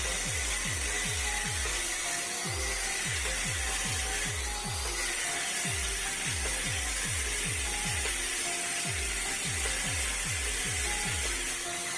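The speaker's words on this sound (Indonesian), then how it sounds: "ini besinya akan kita potong terlebih dahulu" A 1 cm diameter iron rod is cut before welding practice, giving a loud, steady run of rhythmic repeated cutting strokes that continues evenly for about twelve seconds with no talking.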